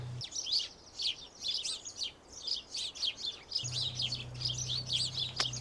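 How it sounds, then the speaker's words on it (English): House sparrows chirp repeatedly in a hedgerow at Elmley Nature Reserve, a busy string of bright, overlapping tweets that runs the whole time over a low steady hum of background noise. "What a beautiful sound. We are losing way too many house sparrows from our hedgerows."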